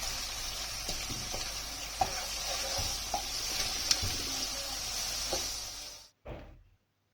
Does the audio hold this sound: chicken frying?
yes